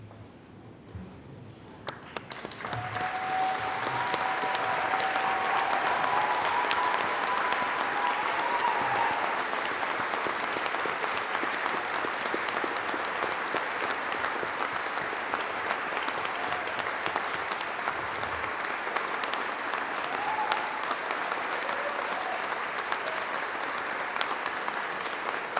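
Sustained applause from a standing audience congratulating university graduates at a ceremony, beginning after a short pause and continuing as a steady, moderately distant wash of clapping in a large hall for over twenty seconds.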